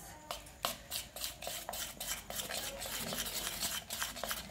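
A spoon stirs Surali Vadi batter seasoned with salt and turmeric in a metal vessel, giving steady rhythmic scraping and clinking strokes, close and clear, with no talking.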